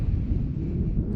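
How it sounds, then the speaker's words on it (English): Strong wind buffets the microphone in a steady, dense low roar outdoors in a windy, scenic spot, constant throughout with no other clear sounds. "Despite it being really, really windy, it is so beautiful here."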